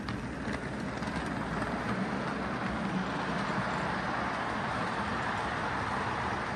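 A model diesel transfer train runs along the track with a continuous, fairly quiet rolling rumble and mechanical whir, steady throughout with no speech.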